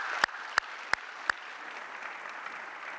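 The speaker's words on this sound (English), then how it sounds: "Let's give them a round of applause" Scattered audience clapping at an opening ceremony in a large expo hall, with a few sharp, distinct claps up front over a softer, steady wash of applause.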